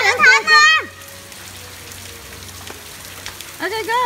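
Steady rain falls outdoors in Padang Sidempuan as a continuous soft hiss, with children's voices calling out loudly at the start and end over it.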